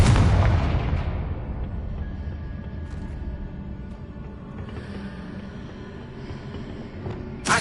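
A single loud blast from the Confringo spell in a Harry Potter video game booms at the start, then rumbles and fades into a low, lingering tail with faint game ambience.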